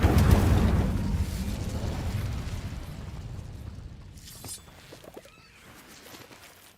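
A fire spell cast in the video game Hogwarts Legacy opens with a loud, rushing whoosh that slowly fades away, followed by a few softer crackles.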